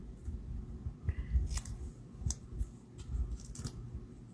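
Scissors snip apart pieces of cardstock in a paper-crafting session, giving a few separate crisp cuts scattered over a low background hum, close and fairly quiet.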